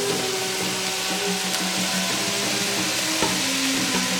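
Fresh spinach hits a hot pan and is stirred, a continuous loud sizzle and frying crackle with faint scraping of the utensil against the pan.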